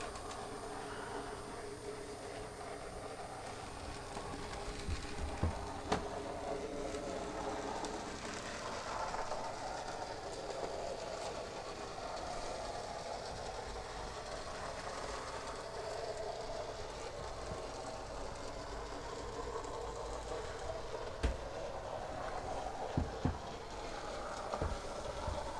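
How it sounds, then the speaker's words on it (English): A non-sound-fitted Graham Farish N gauge model locomotive runs around a layout, giving a steady, quiet rolling rattle of wheels on track with occasional faint clicks. It continues evenly throughout with no talk. "So here is the non-sound fitted one going around the layout."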